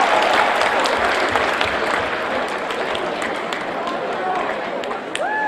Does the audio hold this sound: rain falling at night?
no